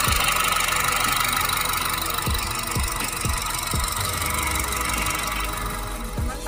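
Close, steady idling of a 2010 Honda Jazz RS automatic hatchback engine with a high squealing whine on top and occasional low knocks.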